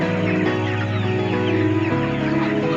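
A dense chorus of chickens on a poultry farm of about 3,600 birds clucks and chatters constantly, many birds overlapping close by in a steady, busy din.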